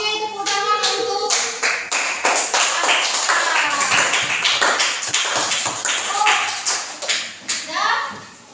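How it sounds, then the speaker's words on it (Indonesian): A classroom of children clapping together, sharp and close, a dense burst of claps that keeps going and tapers off near the end, with young voices mixed in. "tepuk tangan untuk"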